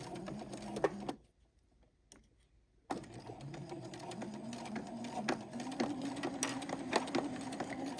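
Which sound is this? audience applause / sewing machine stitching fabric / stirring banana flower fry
sewing machine stitching fabric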